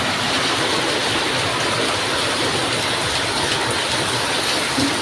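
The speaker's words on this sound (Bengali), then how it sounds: "বৃষ্টির একবার ফুটেজটা দেখো যে কত জোর বৃষ্টি হচ্ছে" Heavy rain pours down outside a house in a loud, dense, unbroken roar that holds steady from start to end.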